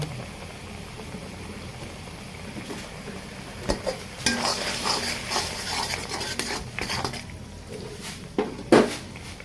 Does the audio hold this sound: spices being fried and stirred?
yes